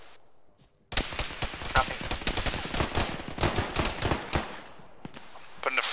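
Rapid machine gun fire from shooters on a ground floor and inside a bunker in the ArmA military game, with dense bursts of shots close by and a brief spoken word near the start.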